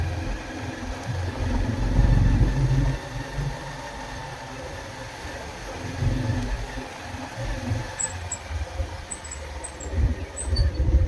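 A motorcycle engine idles steadily on a farm track before off-road riding, a low rumbling hum with slight surges, moderately close, with faint background noise and no talk.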